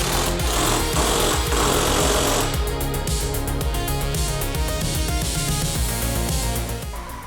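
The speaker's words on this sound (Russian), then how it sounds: "А если вот сейчас завести ее?" An Audi 80 B2 engine runs loud and steady at close range, with a rough mechanical clatter throughout and a slight dip toward the end.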